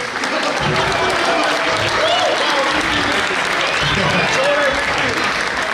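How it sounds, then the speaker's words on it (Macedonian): Warm, sustained audience applause for Firuze at a winter fairy-tale show, dense clapping throughout with voices calling and talking beneath it. "Еден аплауз исто така и за Фирузе."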